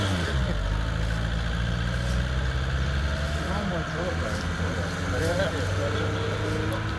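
Steady mid-pitched engine drone from a non-turbo vehicle running on oil, heard close and continuous with slight revving swells, while people talk over it.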